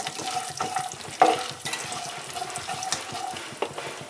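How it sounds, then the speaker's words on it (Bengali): Something frying in a pan until browned, a soft continuous sizzle with repeated spatula scrapes and taps, fairly close and moderately quiet. "এবার এটা একটু লাল লাল করে একটু ভালো করে ভেজে নিতে হবে"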